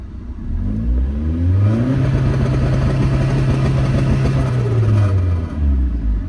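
A Mazda MX5 engine, fitted with an ME221 ECU, climbs quickly and then holds at the launch-control 2-step limiter with a harsh, crackling, stuttering drone for several seconds before dropping back to idle; loud and close, no talk.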